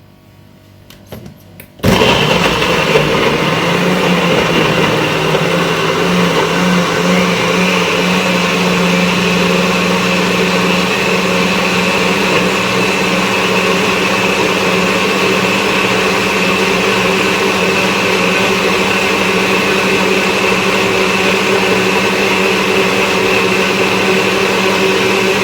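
A Magic Bullet blender starts up abruptly and then runs loud and steady for a long stretch, blending carrot, ginger and lime juice into a drink. The whir stays constant with no pauses.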